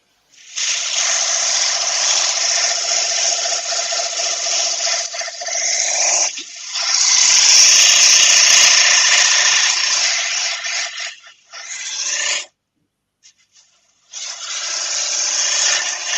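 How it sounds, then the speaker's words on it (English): A steady whirring rub of an oak platter spinning on a wood lathe against an abrasive, loud and close, with brief pauses and a short gap of silence near the end. "So speed down, turn the lathe back on."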